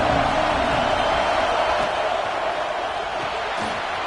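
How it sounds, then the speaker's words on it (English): A stadium crowd at an American football game roars continuously, a dense, loud wash of cheering and shouting that holds steady throughout with no break. "This crowd ready to make its presence known."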